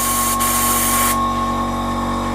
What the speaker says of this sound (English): Compressor's going nuts under the table.